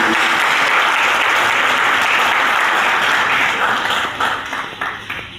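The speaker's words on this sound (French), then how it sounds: "on va applaudir une fois de plus, s'il vous plaît." An audience applauds at a book launch ceremony in the Democratic Republic of Congo: dense, steady clapping fills the room, then thins and fades toward the end.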